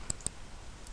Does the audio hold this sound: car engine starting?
no